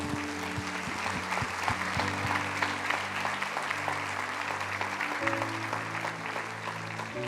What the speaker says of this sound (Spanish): Hoy sí puede darle ese aplauso fuerte a Dios